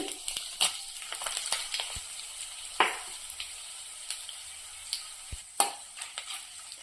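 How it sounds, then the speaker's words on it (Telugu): Dried red chillies frying in oil with cumin and chana dal in a kadai: a quiet sizzle broken by scattered crackles and scraping stirs. "ఎండుమిర్చి కూడా మంచిగా ఫ్రై అయింది"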